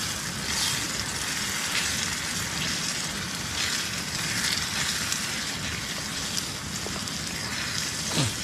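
Masala curry with garam masala and coriander powder sizzling in a pan as it is stirred at a night campsite, a steady close hiss and crackle that runs unbroken throughout.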